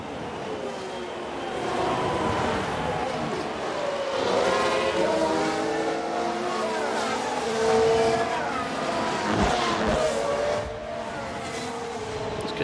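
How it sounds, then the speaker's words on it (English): Several Formula 1 cars in the F1 Manager 2022 game whine past one another through a pass in Brazil, a loud, continuous layered engine scream with shifting pitches over about twelve seconds, with no talk. "It's a good pass around Schumacher"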